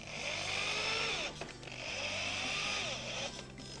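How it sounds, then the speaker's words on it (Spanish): An electric drill set to minimum speed whirs at a steady pitch while driving screws, briefly stopping and restarting twice, close and fairly loud. "regulamos la velocidad del taladro a mínimo. Y ahora vamos a poder utilizarlo como destornillador."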